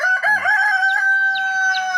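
A rooster crowing loudly and close, one sustained strained cock-a-doodle-doo call held for about two seconds.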